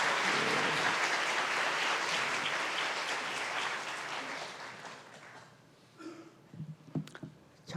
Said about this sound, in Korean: 박수를 한번 더 격려합니다.